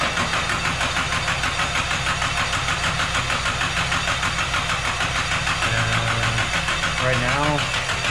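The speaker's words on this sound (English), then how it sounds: "All right, crank it." Car engine cranking over on the starter during a compression test, a steady rapid churning drone running throughout with a voice talking over it.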